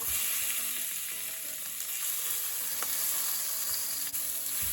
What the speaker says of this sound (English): So I'm going to put my seasoned jerk prawns in here.